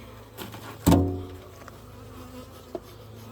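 Honey bees buzz around an opened beehive after a hive split, a steady insect drone with a few brief louder passes close by and one sharp knock, no talking.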